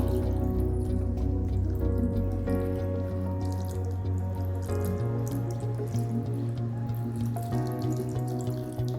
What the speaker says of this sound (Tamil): கடலை மூழ்கிற அளவுக்கு தண்ணி விட்டுக்கணும்.